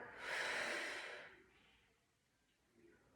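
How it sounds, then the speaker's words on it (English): A single long exhale during a gentle chair yoga class, near and breathy, swelling for about a second and then fading, with a softer breath or two afterward. "Take a breath in, and on the exhale, lean back."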